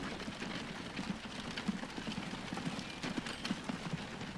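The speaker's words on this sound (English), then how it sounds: "And I still hear a horse and buggy out there." Horse-and-buggy hooves clip-clop in the video game Transport Fever 2, a faint, steady run of soft hoof knocks set against a low background hum, with no voices.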